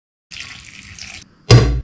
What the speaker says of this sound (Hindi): अब आप एक बड़े से बोल में गुड़ को डाल दीजिए और जितना गुड़ लिए है उसके आधा पानी डालना होगा।